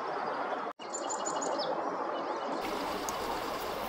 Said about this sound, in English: Looks like an orange-crowned warbler.